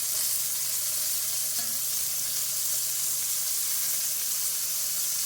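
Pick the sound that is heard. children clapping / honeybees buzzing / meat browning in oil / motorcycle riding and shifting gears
meat browning in oil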